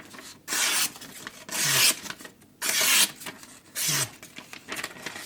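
A VG10 steel knife is sharpened on Atago 1000 and Rika 5000 whetstones, with four separate close, hissing scrape strokes, each lasting about half a second and divided by quiet gaps.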